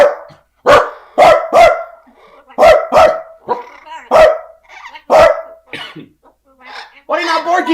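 A parrot imitates a dog, letting out a run of sharp, loud bark-like calls in quick bursts, close up, with some rougher cough-like sounds and voices nearby.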